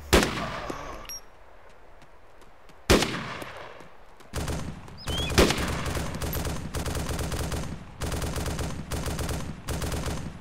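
Gunfire in Arma 2 during a co-op firefight at targets: a sharp opening shot, then loud, dense bursts of automatic fire that repeat in rapid rhythmic volleys with only brief gaps.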